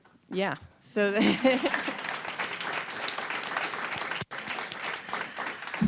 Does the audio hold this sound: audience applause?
yes